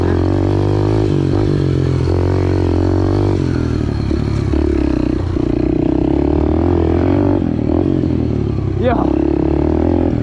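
A Yamaha TTR pit bike engine running loud and close, a rough continuous drone with shifting pitch and some rattling, while people talk over it.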